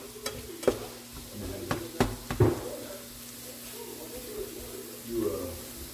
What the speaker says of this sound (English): So we're cooking this jackfruit down.